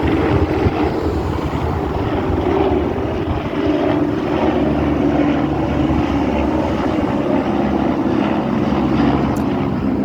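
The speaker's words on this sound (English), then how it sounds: "Look at this helicopter." Helicopter flying overhead, a loud continuous low rotor and engine roar with a steady throb, filling the whole stretch without any talk.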